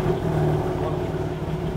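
BMW M4 Competition with tuned firmware, its engine running as a loud, steady, close rumble with no pause or change in pitch.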